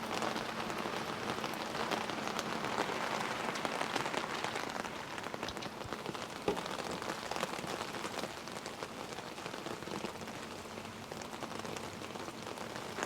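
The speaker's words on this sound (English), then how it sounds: "It's raining pretty good, so it shouldn't be too long." Rain falls steadily outdoors onto hard surfaces, making a continuous dense patter with scattered louder drips. The sound stays at an even moderate level throughout, and nobody talks over it.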